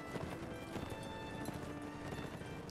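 Cavalry horses galloping in Mount & Blade Warband, a faint, dense rush of hoofbeats mixed with battle clatter, continuous and fairly distant.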